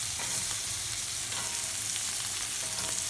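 Steak searing in a hot pan while being basted with spooned butter, a loud continuous sizzle and crackle with no talk.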